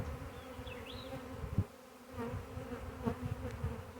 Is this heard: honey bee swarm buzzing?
yes